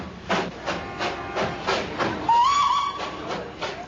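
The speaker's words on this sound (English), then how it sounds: "the little hill train runs smack down the middle of the main street" Darjeeling Himalayan Railway steam hill train running down the middle of a town's main street, rhythmic chuffing beats at a steady pace with a short whistle in the middle, close and clear.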